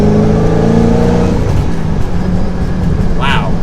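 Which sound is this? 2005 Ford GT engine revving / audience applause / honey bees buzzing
2005 Ford GT engine revving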